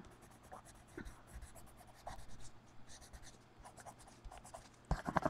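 Colored pencil strokes scratch and rub across sketchbook paper during adult coloring, a soft, uneven series of short scrapes with a slightly louder burst of rubbing near the end, faint and close with no talking.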